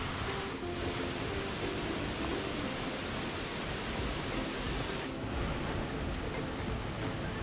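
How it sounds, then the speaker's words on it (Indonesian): A waterfall at Curug Cihurang in Indonesia roars as a steady, dense rush of falling water, faint and unbroken throughout with no voices. "Sambil menikmati air terjun"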